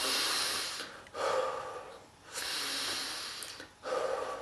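Paced breathing exercise demonstrated by one person, with strong, deliberate breaths in a steady cycle of about three long breaths separated by short pauses, close and fairly loud with no talking.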